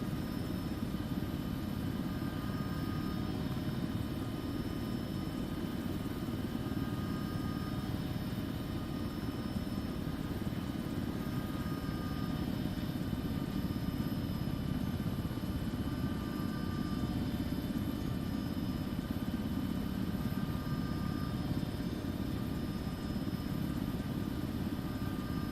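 Helicopter in the ArmA 3 game flying a landing approach, a steady loud rotor and engine drone that holds constant throughout with no talk.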